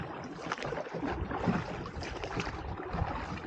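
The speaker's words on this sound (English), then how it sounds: "It was actually this rowing boat." A wooden rowing boat rowed by two people across the Hathni River, with steady soft splashing and dipping of oars over a constant wash of water and light wind.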